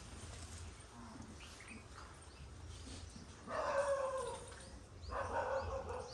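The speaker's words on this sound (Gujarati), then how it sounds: "એવું લાગ્યું કે પેલો કૂતરો ભસ્યો" A dog barks in two bursts at moderate distance, outdoors at a home, with quiet background in between.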